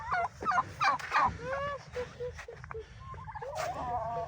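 Turkeys gobbling close by in a farmyard, a string of warbling, rapid gobbles from more than one bird over a low background rumble, with no talk over them.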